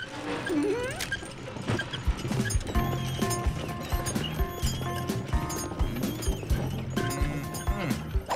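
Horse hooves clip-clop in a steady trotting rhythm under lively cartoon music, with occasional thumps and clatters mixed in, close and prominent.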